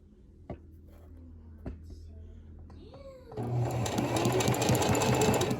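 A sewing machine stitching ribbon onto a tutu channel: after a few quiet taps and small handling sounds, the motor starts and runs in a steady, loud, rapid whir to the end.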